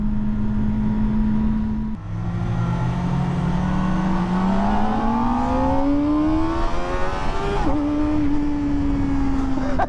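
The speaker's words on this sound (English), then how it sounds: "The sound of this bike is so good." A 2023 Kawasaki Ninja ZX-4RR four-cylinder sport bike engine revs loud and close, its smooth high-pitched whine climbing steadily through the gears with a brief dip at a shift, no talk over it.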